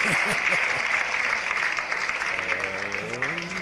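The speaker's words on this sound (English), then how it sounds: "just a smattering of applause" A sparse smattering of applause from a small audience at a live show, steady claps running throughout, with a voice speaking over the later part.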